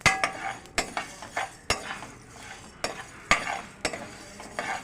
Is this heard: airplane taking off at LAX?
no